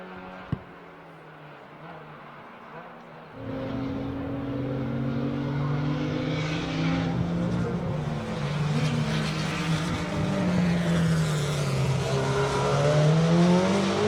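A race car laps Circuit of the Americas at a Super Lap Battle event, a distant engine whine that rises and falls through the gears, growing louder and sweeping in pitch over steady open-air noise.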